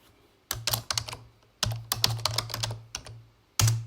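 Keyboard typing on a computer while coding in IntelliJ, with bursts of close, crisp key clicks separated by short pauses and a heavier keystroke near the end.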